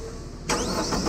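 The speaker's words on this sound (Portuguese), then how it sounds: "Agora sim, o motor esquerdo funcionando pra vocês verem." A boat's left engine cranks and catches after a quiet moment, then settles into a steady, loud mid-pitched running roar up close.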